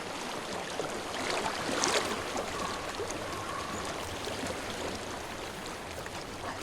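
A steady, continuous rush of flowing stream water from the video game Hellblade: Senua's Sacrifice, with a gentle swell near the start and then an even, moderately quiet flow with no voices.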